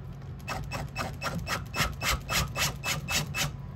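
Rhythmic scraping squeaks of a Phillips screwdriver turning out a control panel screw, about a dozen even strokes over a low steady hum, close and fairly quiet.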